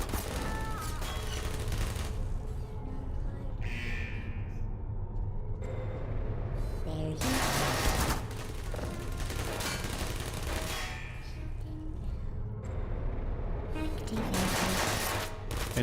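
A turret ambush in Portal with RTX, with sustained rapid automatic gunfire filling the scene as dense, continuous rattling bursts over a loud, busy game soundscape.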